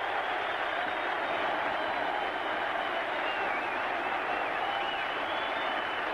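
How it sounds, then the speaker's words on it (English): Stadium crowd at the Kingdome during a football game, a dense, steady roar of cheering and clapping that fills the whole stretch without a break. "Crowd is already sensing victory, and they are all here."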